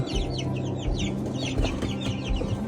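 A crowd of seventeen 16-day-old Japanese quail chicks cheeps continuously, many high chirps overlapping close by, with a low background hum underneath.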